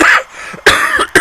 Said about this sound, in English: I'm still getting over the chesty element of a cough at the moment, actually.